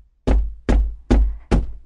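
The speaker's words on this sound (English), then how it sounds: "the fisherman went to the priest's house and knocked on his door." Knocking on a wooden door, four loud, evenly spaced knocks, each a sharp close thud with a short decay.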